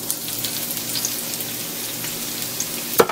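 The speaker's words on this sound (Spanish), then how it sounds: "Voy a poner las papas para que se vayan dorando." Potatoes fry in about two tablespoons of hot oil in a pan, a continuous bright sizzle and crackle with a sharp pop near the end.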